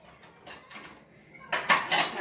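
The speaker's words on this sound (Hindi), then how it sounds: "बर्तन धो रही हो?" Dishes being washed at home, with light clinks of cutlery and utensils followed by a louder clatter of pots and plates near the end.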